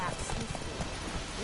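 Roach, a horse in The Witcher 3, gallops in a steady run of hoofbeats, rhythmic and continuous under a dense game soundscape with a voice present.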